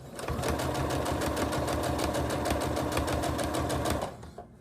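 A sewing machine stitches fabric for a mask, a fast, steady, close mechanical whirring and rattling run of about four seconds that stops abruptly, with no talking.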